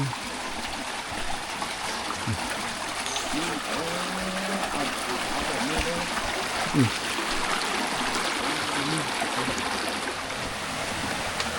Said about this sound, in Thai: เป็นตะฝั่งเป็นน้ำไหลอยู่นี่